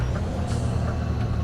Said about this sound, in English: Engine brake sounds really cool.